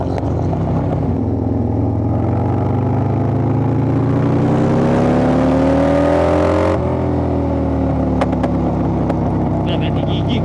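A motorcycle engine bored up to 2000cc rides on a race circuit, its loud, close, steady drone held at low revs, pitch slowly climbing then dropping away, with a faint voice underneath.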